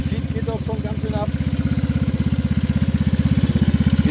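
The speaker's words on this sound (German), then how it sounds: "Da zeigen wir euch noch mal den coolen Motor. 150 Kubik Motor." The 150cc engine of a Hillbil XTR 8 jeep-style quad runs at a steady idle with an even, rapid pulsing putter, loud and close, while someone talks over the first part.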